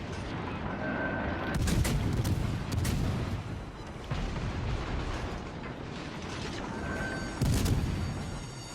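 Naval guns fire in World of Warships Legends from a USA cruiser, the USS Flint, several heavy booming salvos at irregular intervals over a dense rumbling battle din, loud and close.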